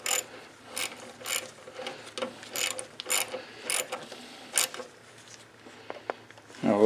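A ratchet wrench clicks in quick bursts while working on a John Deere JS60 push mower, with several rapid clicking runs spread across the span, fairly close and moderately loud.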